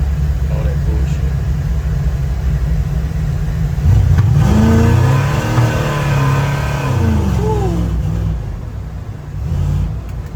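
A 1952 Chevy fitted with Aces fuel injection accelerates, its engine roar swelling and climbing in pitch over a constant low rumble, then dropping back and picking up again near the end, loud and close.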